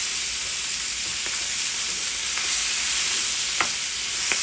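Pieces of fish fry in hot oil in a pan for a Bangladeshi fish curry, giving a steady, close hiss of sizzling with a few soft clicks from the pan or utensil.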